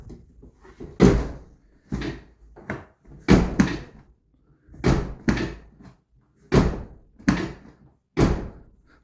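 Driver's door of a Citroen C3 Picasso, a repaired car with a door that sags slightly, opened and shut repeatedly with a latch click before each solid thunk, about seven close, loud slams at irregular intervals.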